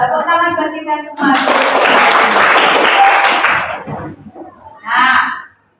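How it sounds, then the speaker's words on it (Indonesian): Students in a classroom break into loud, close applause for a few seconds, followed by a teacher's voice and a short burst of children's voices. "Nah, tepuk tangan buat kita semua."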